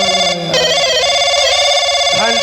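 A telephone rings loudly and continuously without pause, going unanswered in a comedy stage show.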